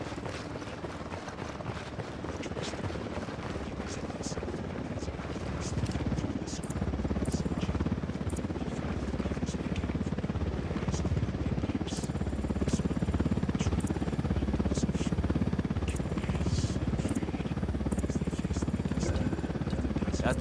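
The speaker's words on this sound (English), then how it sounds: "Helicopter inbound." A helicopter's rotor and engine drone steadily in the video game Ghost Recon Wildlands, gradually growing slightly louder as it approaches, with a constant mechanical hum throughout.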